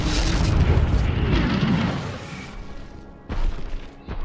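Catapults bombarding in LOTR: BFME2, heavy booming impacts that roll into a rumbling crash, then a fading tail and a later second thump, loud and close with no talking over it.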